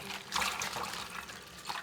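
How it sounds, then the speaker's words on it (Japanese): Spinach with its roots cut off is swished back and forth in a bowl of water, giving soft sloshing and trickling splashes in brief surges, close and quiet with no voices. "根元を切り落としてボウルに入れ、根元部分についた泥や土がしっかり落ちるように水の中で振り洗いします。"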